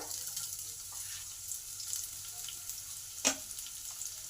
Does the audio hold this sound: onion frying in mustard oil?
yes